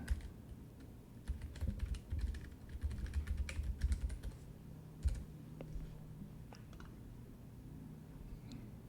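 Fingers tap out a name on a computer keyboard, a quick close burst of clicky keystrokes for several seconds that thins to a few scattered taps against a quiet room.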